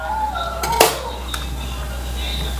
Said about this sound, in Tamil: பாத்திரம் வச்சாச்சு.